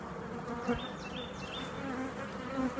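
Close, continuous buzzing of honey bees at a hive, a dense humming drone with individual insects flitting past, no voices.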